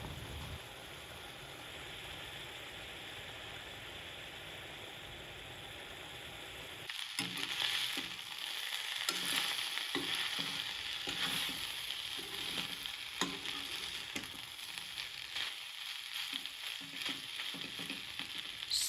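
A pot of water for pasta nearing a boil on a stove, a continuous soft hiss that grows busier and louder partway through, with scattered small bubbling pops and a faint low hum underneath.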